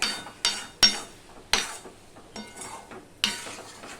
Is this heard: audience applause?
no